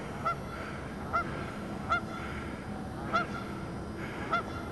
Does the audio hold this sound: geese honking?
yes